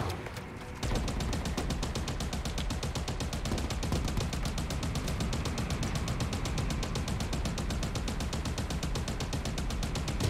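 Sustained automatic weapon fire from Halo Infinite hammers on without pause for about ten seconds, a fast, even stream of shots, loud and close.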